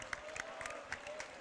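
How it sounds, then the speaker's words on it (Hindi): An audience at a spiritual discourse gathering claps briefly in a dense patter, welcoming visiting committee members from Indore, heard at moderate distance. "सभी का इंदौर से जितनी भी कमेटी के सदस्य आए उनका अभिनंदन तालियां बजाकर कर दीजिए।"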